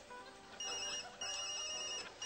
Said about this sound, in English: my phone's been ringing off the hook